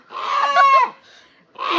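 A chicken gives a couple of loud, close clucks with a short pause between them, no talking.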